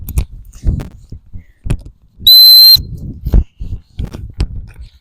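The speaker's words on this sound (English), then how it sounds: "I'm going to stop him off the whistle when I want him to stop and sit." Gundog stop whistle blown once, a single sharp, piercing high blast of about half a second, clear and close, amid intermittent soft thumps and handling noises outdoors during retriever training.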